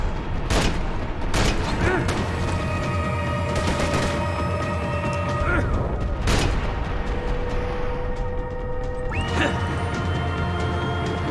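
Loud crashing booms and scattered gunfire from a Max Payne 3 firefight, with several sharp blasts standing out over a constant dense battle din and sustained tonal hum.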